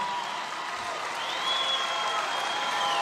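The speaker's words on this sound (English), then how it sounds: "that always gets like the biggest applause" A large crowd at a Trump campaign rally in Arizona applauds and cheers steadily, a dense wash of clapping that swells slightly partway through and continues without a break.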